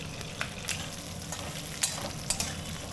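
Capsicum and onion fry in a hot pan for chilli chicken, a steady close sizzle broken by a few quick stirring scrapes and clinks, with no talking.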